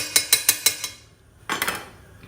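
Metal utensil clanking against a pot of ginataang bilo-bilo, about five quick rhythmic knocks, a short pause, then a louder cluster of clattering scrapes, close and clear.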